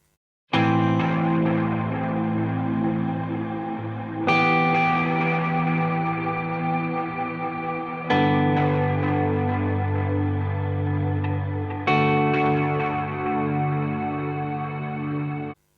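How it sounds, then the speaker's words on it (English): An electric guitar plays four sustained chords, each ringing out for several seconds and washed in delay repeats from a TimeLine delay and spacious Particle Reverb. "combining the Particle Reverb along with the delay gives me my overall sound"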